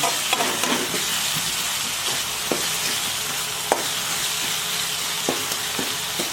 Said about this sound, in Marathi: सुरवातीला वाटलेलं वाटण घालू हे हिंग घालू याला चांगला हलवून घेऊ